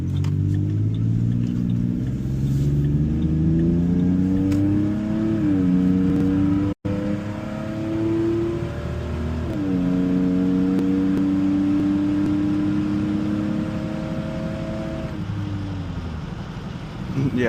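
Cars on a road rumble and whir past one after another, engines rising and falling in pitch as they accelerate nearby, a steady loud stream of traffic with a brief dropout in the middle.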